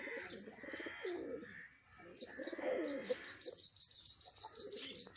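Pigeons coo in soft repeated phrases close by, with a steady background hiss, some chirps, and a few voices speaking faintly.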